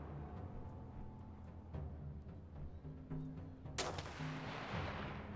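A single loud gunshot in the war survival game This War of Mine, a sharp burst with a decaying tail over quiet low ambient music.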